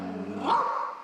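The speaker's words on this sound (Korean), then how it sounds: "지금 들려요. 네, 짖고 있잖아요." A dog barks and growls from an upstairs floor of a house, a single muffled, somewhat distant vocalization with no talking over it.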